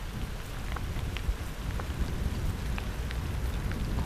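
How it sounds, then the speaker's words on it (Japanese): Heavy rain pours down steadily on a bicycle trip near a mountain pass, a dense continuous hiss with scattered sharper drops tapping nearby, and no one speaking. "にしても結構降ってるな。"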